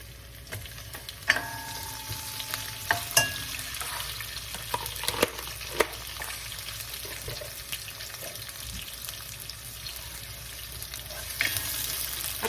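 Chopped onions sizzle in a pan for Filipino chicken afritada, a steady frying hiss with scattered pops and a few sharp clicks of a utensil against the pan, moderately near.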